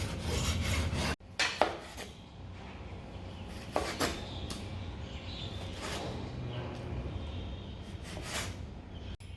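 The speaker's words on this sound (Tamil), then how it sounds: "இப்போ இதை வந்து இப்போ நம்ம சின்ன சின்ன துண்டாக நறுக்கி எடுத்துக்குவோம்." A knife cuts fish into small pieces on a board, scraping and chopping with sharp clicks and rasping strokes at an uneven pace, close by and fairly quiet.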